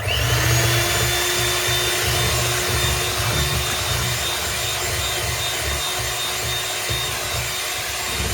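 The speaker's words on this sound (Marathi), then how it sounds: "आता आपण याला ब्लेंड करून घेणार आहे." Electric blender whirring as it mixes a creamy homemade rajbhog ice cream base with essence, a loud, steady, continuous drone with a low hum, heard alone without talk.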